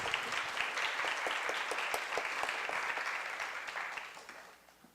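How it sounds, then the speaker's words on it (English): An audience applauds steadily and loudly for about five seconds to welcome speakers onstage at a museum panel talk on the 58th Venice Biennale, then the clapping fades out at the end. "Now let's give a big round of applause to welcome the speakers to be on stage."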